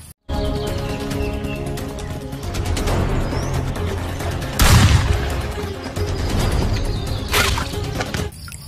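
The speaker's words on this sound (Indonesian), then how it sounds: "Ada mainan tembakan." A toy gun gives a steady stream of loud electronic shooting and blasting sounds, with a couple of sharper bursts near the middle and the end, heard close and alone.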